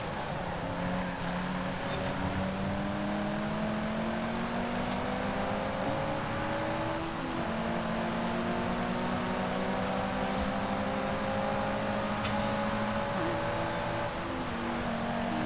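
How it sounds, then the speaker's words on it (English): A high-torque car in Forza Horizon 5 accelerates hard at night, the engine droning and climbing through repeated gear changes, each shift dropping the pitch before it rises again, loud and continuous. "when you are in a straight line and you are gunning it"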